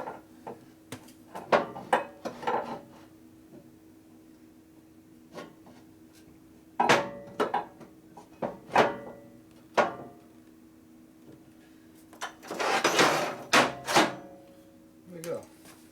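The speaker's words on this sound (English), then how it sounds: "The appropriate size hammer on the said bar stock." A hammer strikes a piece of bar stock during transmission repair on an S&S 113ci Evo Harley motor with a belt drive: sharp metallic knocks, single and in short clusters, spread across the span, with a brief burst of rapid blows near the end.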